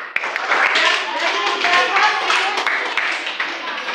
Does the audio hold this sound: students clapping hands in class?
yes